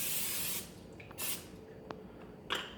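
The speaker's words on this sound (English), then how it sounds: "spraying this plate with some non-stick spray, just enough so that the potatoes don't stick on it" Non-stick cooking spray hisses onto a plate in a few short bursts, a long opening spray then briefer puffs, close and fairly loud with quiet gaps between.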